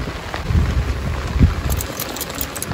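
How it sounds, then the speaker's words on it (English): Heavy, non-stop monsoon rain pours down in Mumbai, a dense, loud, continuous hiss of drops hitting surfaces, with a few low rumbling thuds underneath and no talking. "it's continuously non-stop raining in Mumbai right now"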